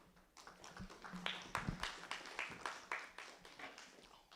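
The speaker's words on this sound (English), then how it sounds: "Round of applause, please." Audience applause at an East African Communication Association conference, a dense spread of many hands clapping that swells and continues steadily through the whole stretch, moderately loud with a roomy feel.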